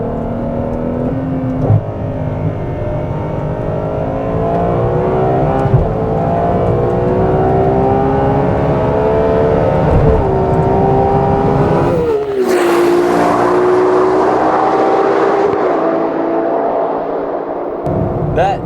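A Ferrari 812 Competizione V12 revs hard on a closed course, rising through the gears in a loud, close, climbing howl, breaking off at one shift before pulling again and then easing off.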